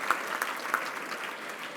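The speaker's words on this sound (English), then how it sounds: "All right, let's give a round of applause." An awards-ceremony audience applauds in a steady, moderately loud patter, with a few sharper claps standing out near the start.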